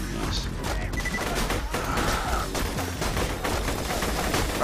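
Enemy gunfire in Borderlands 2: sustained, dense bursts of shots with no pauses, loud and busy throughout, mixed with other game noise and no talking.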